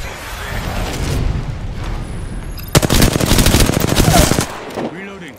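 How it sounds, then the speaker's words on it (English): Enemy gunfire in the Crypto gameplay of a shooter, a loud rapid burst of automatic fire erupting midway and rattling for about two seconds after quieter ambient game noise, with a voice speaking. "Enemies are shooting at me."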